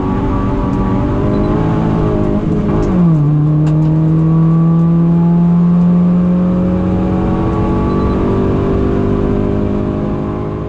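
Toyota Echo Sportivo race car pushed hard on a lap at Broadford, engine roaring loud and close in-car, revving high, dropping sharply on a gear change then climbing steadily again, no talk.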